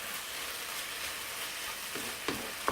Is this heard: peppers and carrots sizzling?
yes